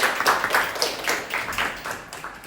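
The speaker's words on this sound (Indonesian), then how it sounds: "Beri tepuk tangan untuk kelompok" Applause from a classroom group for a student group's presentation, a steady patter of many hands clapping at moderate volume, fading slightly toward the end, with no talk.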